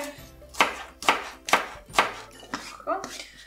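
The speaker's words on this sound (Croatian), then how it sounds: "sada moramo narezati mladi lukić na kolutiće" A knife chops spring onion into rings on a cutting board, four crisp, evenly spaced thuds followed by a couple of quicker, lighter cuts, close and clear in a quiet kitchen.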